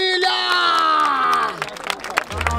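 A crowd at the Batalha da Aldeia rap battle in Barueri, São Paulo cheers and shouts loudly, with a sustained raised voice over the noise before it breaks into scattered whoops and crowd noise.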